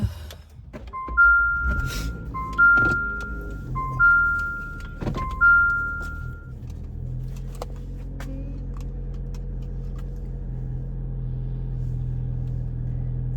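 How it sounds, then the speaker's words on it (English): Inside a moving car, a few repeated two-tone chimes sound over the start, then a steady low engine and road rumble carries on alone for the rest, fairly loud and even. "I don't know if y'all can hear me over the noise of the car"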